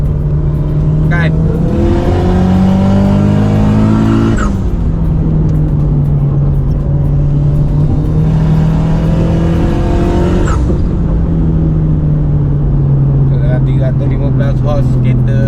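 A Mitsubishi Evo 5 engine screams through repeated loud pulls on a dyno, climbing in pitch through gears, dropping back to a rumbling idle between runs.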